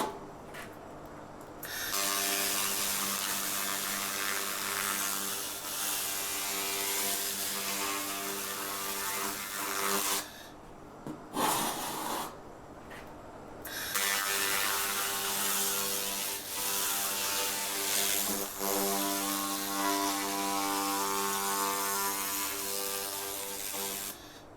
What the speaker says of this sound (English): This laser cleaning is a much better method to use for cleaning this brake disc